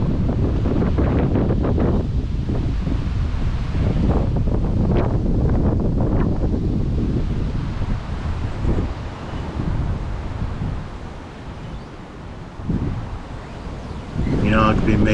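Strong wind gusts buffet the microphone beside a lake during a live fishing match at Horseshoe Lake, Alvechurch, with loud roaring rumble that eases and swells in waves, and a voice briefly speaks over it.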